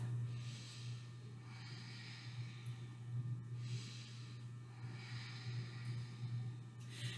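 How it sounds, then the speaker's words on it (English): Deep, full breaths during a hip-opening yoga sequence: several slow, breathy inhales and exhales in a steady rhythm over a low constant hum, close and soft, with no talking. "Take a deep, full breath."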